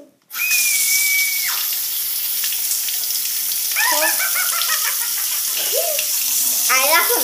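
A tap runs steadily into a sink while paint is washed off, with a dog barking and yelping intermittently nearby over the rushing water.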